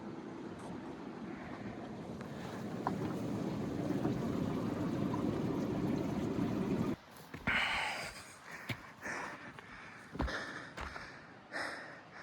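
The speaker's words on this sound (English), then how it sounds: "you can hear a river under them" A river runs out of sight beneath the boulders of a mountain climbing traverse, a steady rushing wash that later breaks into uneven gusts and close rustles. No one speaks.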